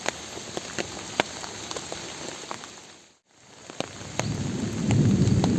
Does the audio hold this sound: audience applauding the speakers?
no